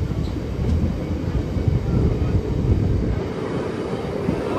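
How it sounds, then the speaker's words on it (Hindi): A passenger train rolls onto the Tons railway bridge between Shahganj and Akbarpur junctions, a steady loud low rumble of wheels and carriages heard from inside, continuous throughout with no talking. "टोंसर रेलवे ब्रिज हमारी ट्रेन देखिए पहुँच चुकी है।"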